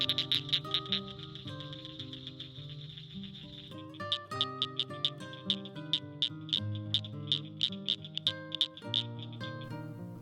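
Tree frogs calling in eastern Texas, a chorus of rapid, repeated trilling notes and clicks close by, pulsing in irregular bursts over a low background hum.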